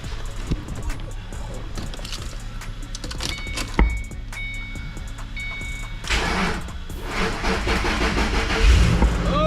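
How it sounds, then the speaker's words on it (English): Car engine cranking and catching in a garage while the owner preps a Ford Mustang, a low steady rumble building to a louder burst near the end as the motor fires up, with metallic clinks along the way. "let's see if we can crank it now"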